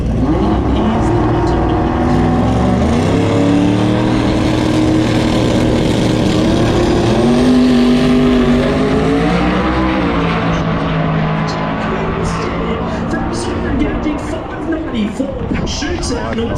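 A drag racing car makes a half-track pass at a racetrack, its loud engine roaring continuously with rising and falling pitch. A commentator talks over the engine noise throughout.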